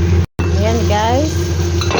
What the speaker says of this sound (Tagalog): Haluin nyo lang ng haluin.